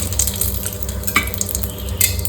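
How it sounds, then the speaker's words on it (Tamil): Bay leaf and cinnamon sizzle in hot oil in a pan, a close, steady frying crackle with small scattered pops and light stirring clinks throughout and no talking. "ஆயில் வந்து ஹீட் ஆனதும் ஒரு இலை,"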